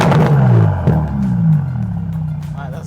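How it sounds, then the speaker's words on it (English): Bentley Continental GT V12 engine revving up in a low, rough rumble that swells and falls over a few seconds, close by, with a brief clatter partway through. "I'm gonna rev it a little bit and give you a little sample of what this is really packing."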